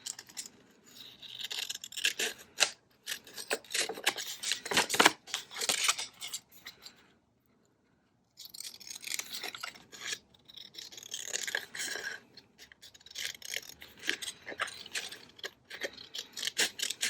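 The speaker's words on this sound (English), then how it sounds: "Probably should have used longer scissors." Scissors snip and rasp through a paper bag in a long stretch of uneven, close cutting strokes, pausing briefly partway before the crisp cutting resumes, with no voices.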